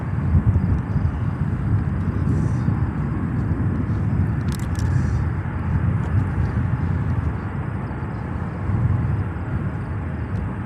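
A wide-body China Cargo Airlines jet at Chicago O'Hare, heard as a steady, broad engine rumble that stays loud and even throughout, with no talk over it.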